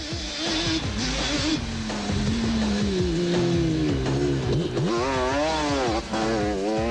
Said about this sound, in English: Dion Belcher was out on a distinctive-sounding 650 Bombardier